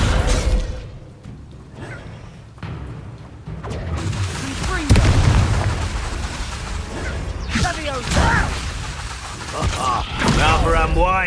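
Descendo spell impacts in Hogwarts Legacy combat land as heavy booming blasts with crackling bursts, mixed with other spell effects and voices talking over the fight.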